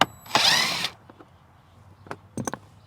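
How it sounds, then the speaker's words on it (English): A power drill briefly whirs loose screws from an interior panel of a 2007-2014 Chevy Silverado, one short close burst followed by faint clicks and a few small knocks as parts are handled. "The first thing we need to do is to remove 3 screws."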